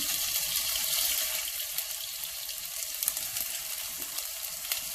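Ginger and garlic sizzle steadily in hot vegetable oil in a frying pan, a dense, close crackling hiss that holds at an even level throughout, with no talking.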